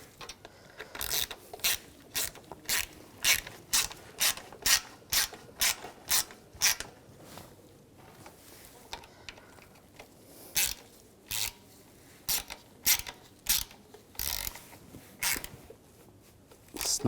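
Hand ratchet snugging AC condenser bolts on a 2011-2018 Volkswagen Jetta, giving rapid close clicking strokes in repeated runs, crisp and regular, with no voices.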